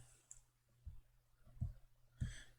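Three quiet, close mouse clicks, evenly spaced, on a computer running CAD modelling software, in a near-silent room.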